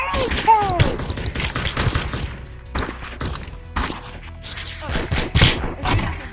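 AK rifle gunfire in the video game Animal Rivals, rapid loud bursts of shots and thuds packed closely together, with a player's voice talking over the action.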